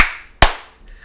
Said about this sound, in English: Clap sync.